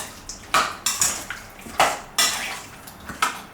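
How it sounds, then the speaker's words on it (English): Marinated chicken wings for garlic fried wings are mixed with oyster sauce, soy sauce and sesame oil in a bowl, giving repeated wet squelches and clinks of utensil against the bowl in an uneven rhythm, close and without speech. "Mix again until everything is nicely coated."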